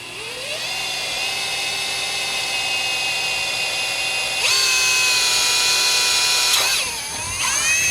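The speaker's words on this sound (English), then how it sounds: "So I'll just drill this last one out here" A power drill whines steadily at high pitch while drilling out a rivet on a car hood during a vent install, jumping louder and higher partway through as it bites, then winding down briefly before spinning up again.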